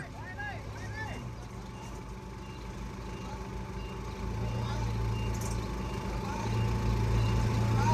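A truck backs up under a steady, continuous reversing beep alongside a low engine rumble that grows louder toward the end, while people shout directions over it.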